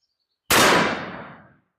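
A single loud .444 Marlin rifle shot, 240-grain full metal jacket load fired one-handed, cracks sharply and rolls into a decaying echo over about a second, with no voices around it.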